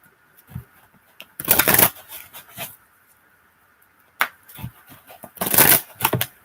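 Oracle-style answer cards being shuffled by hand, two separate bursts of riffling and flicking, close and fairly loud, with quiet pauses between.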